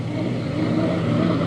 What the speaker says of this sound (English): Here comes your second place boat now.